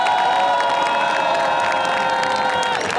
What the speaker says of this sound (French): je voudrais qu'on fasse encore un énorme applaudissement pour tous les intervenants